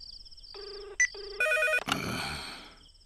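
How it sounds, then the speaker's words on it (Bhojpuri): A telephone ringtone plays alone, loud and close, as a series of bright electronic melodic tones that shift pitch before a final burst. "रिंग जाता।"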